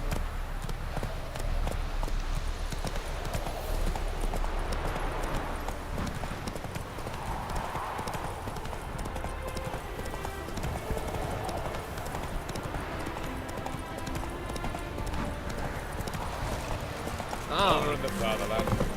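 Roach, the horse in The Witcher 3: Wild Hunt, gallops in a steady rhythmic clip-clop of hooves, fairly quiet under game ambience, with a brief whinny and a voice speaking.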